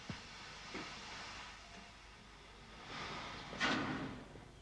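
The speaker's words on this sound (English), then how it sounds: "And later, the train returned." A steam train returns at Tenterden on a UK heritage railway, heard faintly and from a distance: low rumbling with soft hissing and a few sharp knocks and bursts of steam, including one louder release near the end.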